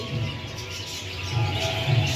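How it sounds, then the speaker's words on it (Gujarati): A parrot at the Rajkot Lok Mela fair gives short chirping calls, repeated a few times over a dense, humming fair crowd in the background. "જો તો મસ્ત મજાનો પોપટ છે બધું બોલી રહ્યો છે"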